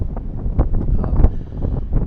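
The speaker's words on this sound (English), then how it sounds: "It's really windy." Strong wind buffets the microphone in loud, low rumbling gusts on a clifftop by the ocean, continuous and rough, with no other clear sounds.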